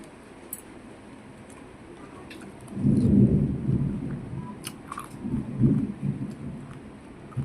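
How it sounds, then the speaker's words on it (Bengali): Thunder during rain rolls in as two low, swelling rumbles a few seconds apart over a faint hiss of rainfall, fairly distant and without speech. "মেঘ ডাকছে শুনতেই পাচ্ছ"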